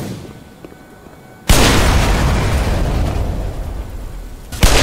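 An explosive box in Black Mesa bursts after being shot, a sudden loud boom that opens into a long roaring rumble and holds for several seconds before a second jolt at the end.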